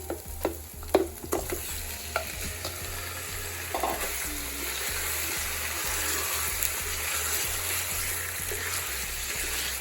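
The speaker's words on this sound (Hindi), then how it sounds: "तो मैं चिकन डालूंगी इसमें" About 1.5 kg of chicken goes into a hot pot for chana chicken pulao, a few sharp clattering drops and then a steady, fairly loud sizzle and frying hiss with occasional stirring, no talk.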